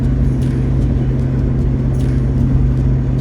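A Nissan R32 Skyline GTR on the road, its engine giving a steady, loud low rumble with constant road and tyre noise and no clear revving throughout.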